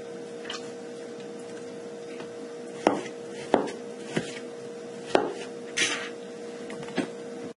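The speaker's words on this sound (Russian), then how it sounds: "Режем на небольшие кусочки," Quiet, irregular knife chops knock against a cutting board, about seven sharp taps spaced a second or so apart over a low steady hum.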